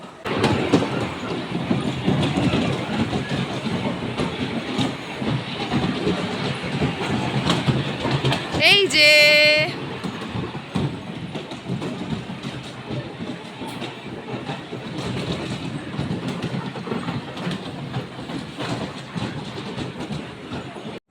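A toy train at an amusement park rolls along steadily with continuous rumbling wheel clatter, a brief high squeal or whistle near the middle, and a short spoken remark near the start.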